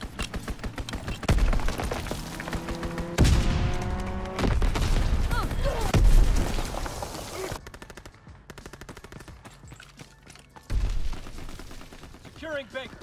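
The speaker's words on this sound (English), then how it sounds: "Strafing run inbound!" Strafing run in Call of Duty WWII multiplayer, Resistance DLC: bursts of rapid machine-gun fire and loud booming impacts, with crackling shots and explosions rolling through an intense, layered battle soundscape.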